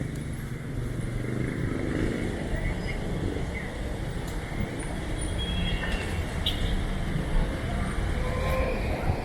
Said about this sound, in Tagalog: So the traffic still pile up over here.